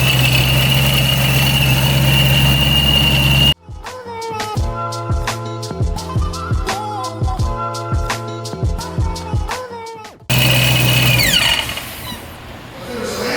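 A Dodge Scat Pack with a Procharger supercharger idles, its engine humming steadily with a whine on top. In the middle, loud, rhythmic mechanical clatter and knocking briefly takes over before the idle resumes.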